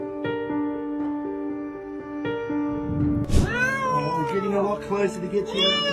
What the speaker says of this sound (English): A cat got stuck in a small crack between 2 walls and was begging for help.